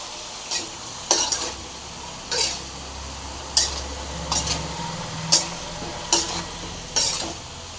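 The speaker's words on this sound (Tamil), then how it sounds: "நல்லா கலந்துடலாம் நல்லா கலந்து ட்ரை ஆகணும்" Spoon scraping and clanking around a pan of brinjal mixture being stirred, about eight sharp metallic strokes in an uneven rhythm over a faint, low sizzle.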